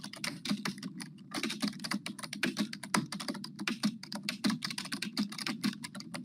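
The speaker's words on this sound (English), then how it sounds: "I love hearing that keyboard." Rapid typing on a computer keyboard, a dense and continuous clatter of hard, fast keystrokes heard up close with no voices.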